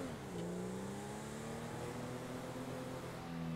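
A loud motorcycle engine in GTA roleplay, close by with steady harmonic drone that dips in pitch then holds, running continuously throughout without talk.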